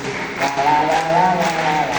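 A scout group clapping hands in a steady rhythm, with sharp claps landing at regular beats while voices chant or sing along.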